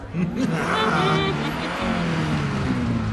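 Car engine revs in a TV show scene, a rising and falling motor whine close by, with a voice speaking over it.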